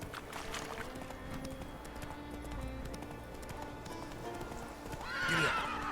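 Hooves clop steadily as a horse runs in The Witcher 3, a soft continuous gait under game ambience, then a whinny rises near the end.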